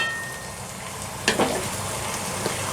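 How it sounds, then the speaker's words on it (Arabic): Meat and spices frying on top of onions in a cooking pot give a low, steady sizzle, with a brief stirring scrape near the middle. "هنزل دلوقتي بقى اللحمه فوق البصل"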